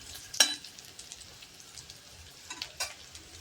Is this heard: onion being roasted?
yes